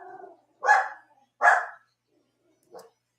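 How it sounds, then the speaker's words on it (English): Dogs bark indoors in three sharp, separated barks, the last one shorter and fainter, with nothing else heard between them. "The dogs are freaking out about something."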